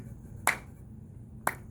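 Two crisp claps land about a second apart as a steady beat, sharp and close over a quiet background with no talking.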